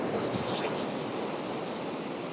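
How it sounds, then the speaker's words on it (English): Ocean waves wash up onto coastal rocks during a campervan trip, a steady, loud broadband roar of surf with continuous rushing water and some wind noise, close by and with no talking. "It's going to be hard to judge with those waves coming up the rocks though."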